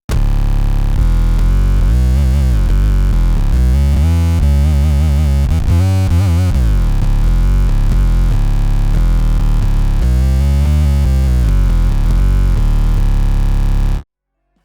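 Mono synth run through a Soviet-style bass fuzz and an Ampeg-style amp, a loud, thick, distorted sustained tone with shifting notes for about fourteen seconds, then it cuts off.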